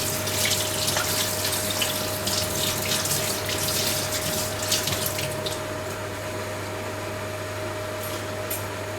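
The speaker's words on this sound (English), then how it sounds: "I have to quickly wash my hands." Tap water runs steadily into a kitchen sink as hands are washed, a continuous close splashing hiss with a faint background hum and no talk.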